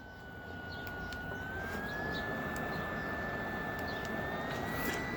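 A BioLite camp stove's fan spins at high speed, giving a steady, fairly loud whir with a thin, rising whine that holds throughout with no break.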